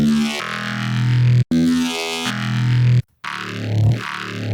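A buzzy Serum wavetable synthesizer tone with a sweeping, vowel-like filter that glides up and down, played in sustained notes broken by two short gaps.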